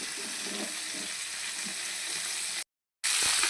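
Fish frying in a pan, a steady, close hiss of sizzling oil that breaks off for a moment of silence before resuming just as strongly.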